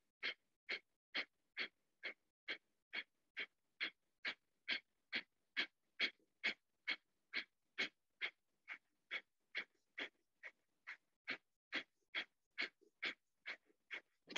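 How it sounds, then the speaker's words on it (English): Short, sharp nasal exhales during yoga breathing, repeated in a steady even rhythm of roughly two per second, close and clear with no talk. "Exhale through your nose. One more time, in. Short, sharp exhale."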